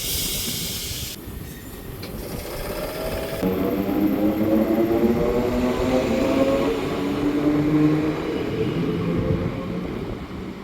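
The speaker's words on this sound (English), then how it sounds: "this train is now leaving" A passenger train pulls away and gets under way, a steady low rumble with rising tonal hum and hiss building after the first few seconds and holding fairly loud and close throughout, with no voices.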